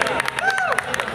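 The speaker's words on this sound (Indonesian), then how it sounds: "sekali lagi beri tepuk tangan yang meriah untuk Ceci dan Tachi" Audience applause for guests Ceci and Tachi at a Koisuru talk event: a brief, dense patter of clapping with crowd noise and cheering, mixed under a voice.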